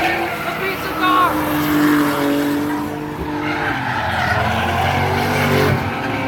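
A drift car tears around the track at Kill Kare during a drifting event, engine revving and tires squealing loudly over several seconds, with a person talking excitedly over it.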